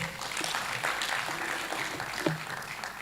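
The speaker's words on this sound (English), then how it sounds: "Let's give General a big round of applause" Applause in a hall for a visiting General at a school event, a soft, steady patter of clapping at moderate distance, with a few voices faintly underneath.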